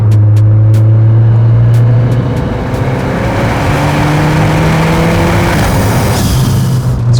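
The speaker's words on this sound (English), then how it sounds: "I'll give you a little bit of an acceleration in 4th gear" A modified Mercedes-AMG A45 exhaust drones loudly as the engine pulls steadily through the revs in fourth gear, the pitch rising gradually, with a few clicks and no talking.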